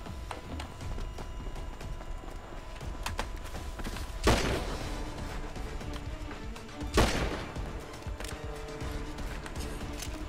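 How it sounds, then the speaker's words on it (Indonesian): Gunfire in the video game GTA V during a roleplay home attack: two sharp, loud bursts several seconds apart stand out over a steady, noisy game background. "Kena-kena cok, gua nembak."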